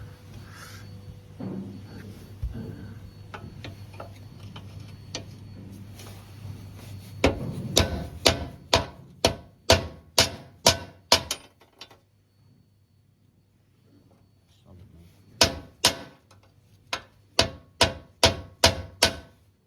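Sharp metallic whacks on rusty metal at a wharf, a loose series of loud ringing hits followed by a quiet pause, then another quick run of strikes.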